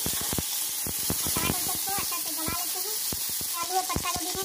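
Tomatoes and chillies sizzling in hot mustard oil for a simple cabbage dish, a continuous bright hiss with scattered crackles and pops, while a person speaks over it.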